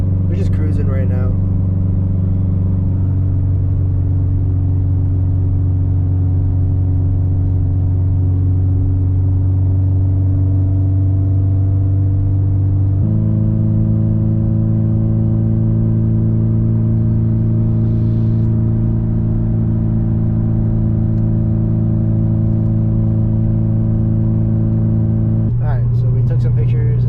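A Toyota 86 car engine hums steadily while cruising on the Tail of the Dragon, a close, even drone holding pitch with a couple of gear-like shifts in tone, heard from inside the car.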